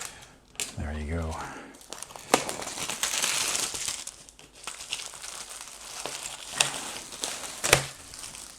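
Plastic and cardboard packaging for a Laserox Rune Lords board game organizer being cut open and unwrapped, with crinkling, crackling rustles and sharp snaps, under a voice talking near the start.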